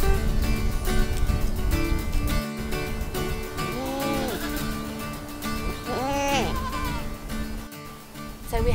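Goats on a Karoo farm, several wavering bleats rising and falling near the middle, fairly close and loud over a dense, constant background of rustling and farm noise.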